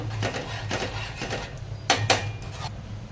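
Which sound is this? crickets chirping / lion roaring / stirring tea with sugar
stirring tea with sugar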